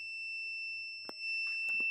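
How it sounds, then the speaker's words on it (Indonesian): Buzzer of a car counter project sounding as the parking lot fills, a continuous high electronic tone held steadily throughout, with a couple of short clicks and knocks in the background. "maka tempat parkir akan penuh dan buzzer akan berbunyi"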